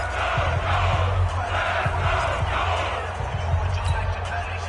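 Crowd cheering in an American football video game on PS4 builds ahead of a big third down, a steady, dense roar with faint low thuds running underneath throughout.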